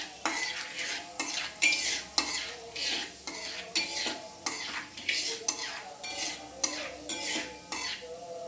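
A spoon stirs an asafoetida mixture in a hot pan for aloo katli, with rhythmic scraping strokes about once per second over a soft background sizzle, close and clear.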